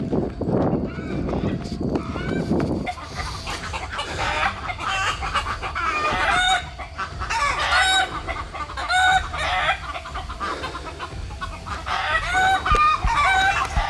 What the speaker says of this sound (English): Chickens are screaming like someone's attacking them.